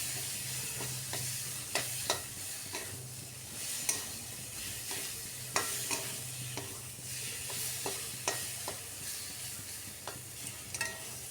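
Fried potatoes cooking with spice paste in a pan for a fish roe curry, with a steady soft sizzle and regular spatula scrapes and taps recurring throughout, close and fairly quiet, with no talking.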